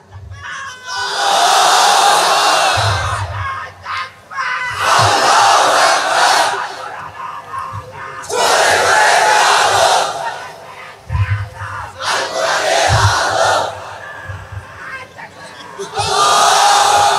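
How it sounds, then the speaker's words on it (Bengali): A large crowd at an Islamic waz gathering shouts takbir in repeated loud bursts, each swell lasting a couple of seconds and then breaking off, with brief pauses and low rumbling between the chants. "এবার তাকবীর দাও"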